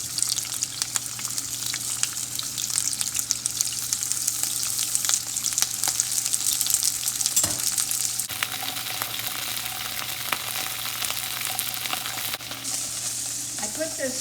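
Lobster pieces fry in a greasy pan with a steady, bright sizzle and spatter that runs unbroken and fairly close, with occasional soft clicks and no talking.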